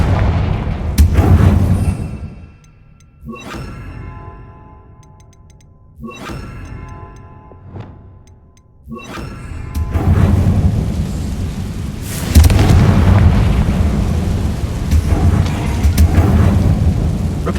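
Repeated fiery spell blasts from Confringo in Hogwarts Legacy, a string of loud booming explosions with sharp onsets, some isolated bursts early and then dense, rumbling continuous detonations, with no talking.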